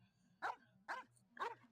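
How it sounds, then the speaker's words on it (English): A puppy in a video game barks three times in an even rhythm, short yappy barks that sound close and clear over a faint background hum. "The puppy wags its tail excitedly."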